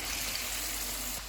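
Potatoes hitting hot oil in a frying pan for a Spanish omelette give a dense, loud, steady hiss of sizzling, close up and continuous, easing slightly at the very end.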